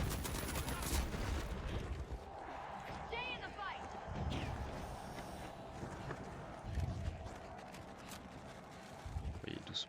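Heavy assault rifle fire in the arena shooter The Finals comes in rapid bursts with clattering game effects, heard under steady male speech throughout.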